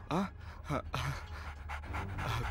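A dog pants in quick, breathy bursts close by, heard beneath someone speaking in a quiet room.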